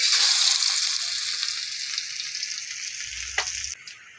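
Bay leaf and ginger hit hot oil in a pan, giving a loud, steady sizzle and frying hiss that slowly fades over several seconds, with a brief soft clatter near the end and no talking.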